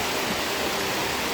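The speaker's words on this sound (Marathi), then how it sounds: "तुमका आता दाखवत आहे आमचं धबधबो." A village waterfall at Brahman Dev gives a soft, steady rush of flowing water, even and continuous for a brief moment with no voices.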